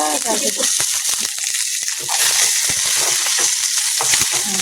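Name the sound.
fenugreek seeds crackling in hot oil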